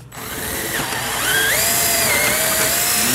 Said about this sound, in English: You are drilling all the way through the seat